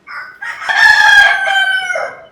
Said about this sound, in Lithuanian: Gaidžiai pas mus čia gyvena aplinkui. Pradeda nuo 4 ryto giedot